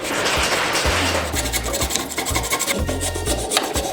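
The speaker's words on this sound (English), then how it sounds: "I have to get a file and get this to where it'll fit on the PVC pipe" A metal file rasps against a piece of PVC pipe in repeated strokes, each pass giving a loud, gritty scraping rush, with low knocks between strokes as the piece shifts, close up and alone.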